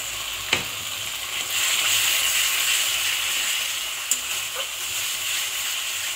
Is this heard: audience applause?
no